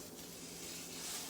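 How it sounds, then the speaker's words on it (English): Steak sizzling in a hot skillet, a steady close hiss of frying that holds evenly for a short moment with no voices over it. "Can y'all hear it sizzling?"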